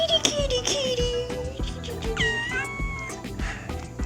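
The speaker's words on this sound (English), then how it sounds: "And then we come home and play with Kitty" A pet cat meows repeatedly at home in Puerto Escondido, Mexico, giving several close, clear, wavering cries in quick succession with no talking.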